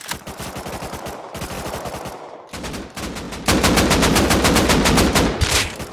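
Rapid automatic gunfire in the survival video game Rust, loud and close, with bursts broken by brief pauses and then a long sustained string of evenly spaced shots.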